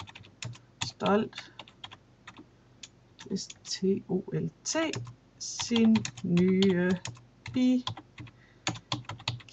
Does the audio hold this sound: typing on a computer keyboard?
yes